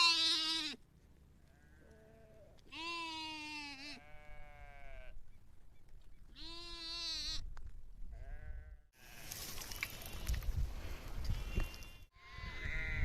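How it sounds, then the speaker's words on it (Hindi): A flock of sheep and goats near Tehri Lake by Palas village, several animals bleating in long wavering calls, some near and loud, others fainter, followed by a noisy rustling stretch with further bleats. "ये तमाम जो बकरियाँ, जो भेड़ हमने आपको दिखाई"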